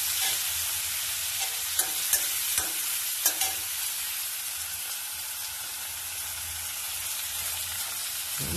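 Thinly sliced onions fry in a pan with a steady, close sizzle. A few sharp scrapes and clinks from stirring stand out near the start, then the hiss carries on evenly with no talk.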